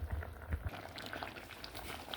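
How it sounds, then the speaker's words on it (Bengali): Curry boiling in an electric rice cooker, a soft, steady bubbling with faint pops and low gurgles, quiet and close, with no voices over it. "যে রাইস কুকারে পাক করে খাওয়া যায়, আমরা এটাতে ভাতও পাক করি, তরকারিও পাক করি"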